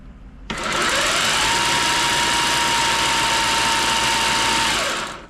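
A Green Machine 62V battery-powered multi-tool runs on sport mode, starting abruptly into a loud, steady, high-pitched whine that holds for several seconds before winding down.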